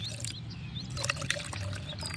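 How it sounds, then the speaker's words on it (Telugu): Rice-washing water that has been stored for many days is poured onto a potted jasmine plant as fertilizer, making a soft, close trickle and splash of liquid. "ఇది బియ్యం కడిగిన నీళ్ళు చాలా రోజులు అయిందండి ఉంచాను కొంచెం వేసుకుందాం"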